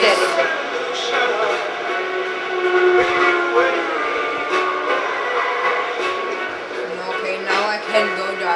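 A train in the video game Watch Dogs 2 rumbles steadily while its whistle sounds with sustained tonal blasts, fairly loud, with a voice speaking briefly over it.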